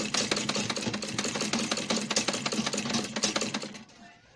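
Sewing machine stitching Ankara fabric for a baby puff duvet, a steady close rapid mechanical chatter running continuously before trailing off at the end.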